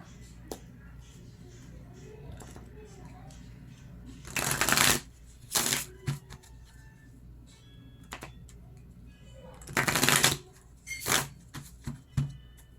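A deck of cards is riffle-shuffled up close in several quick bursts, with quiet pauses and soft handling noises between them.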